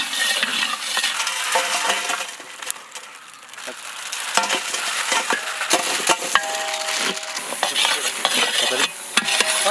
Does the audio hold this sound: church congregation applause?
no